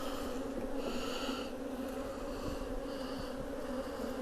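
Honey bees buzz steadily around an opened beehive during hive inspection, a dense continuous drone close by with no talk over it.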